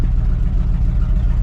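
A 1979 Chevrolet squarebody pickup's 350 V8 idling, a steady deep throbbing rumble with a lopey pulse, heard loud and close with no voices.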